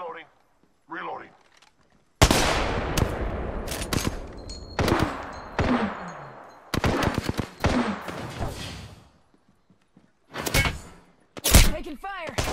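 Repeated bursts of video game gunfire crack out in clustered volleys with short pauses between, loud and close, alongside thumps and brief in-game voice callouts.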